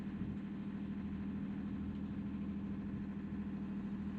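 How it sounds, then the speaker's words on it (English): The inboard engine of a 28 ft sailboat runs at a steady idle, a continuous low mechanical drone without voices. "The engine is sorted."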